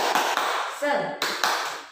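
Rhythmic group clapping at a gathering, a few sharp bursts of many hands clapping in unison, fairly close, with voices around it.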